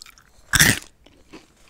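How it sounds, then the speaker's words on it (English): A single sharp crunch of Sonic the Hedgehog whole grain corn and honey cereal being bitten, close up, followed by quieter chewing. "I'm going to give you guys another crunch here"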